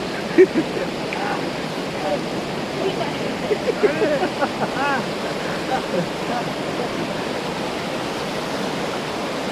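A steady rush of a small waterfall at Chandanwari, Kashmir, fills the scene, loud and continuous, while people talk faintly underneath.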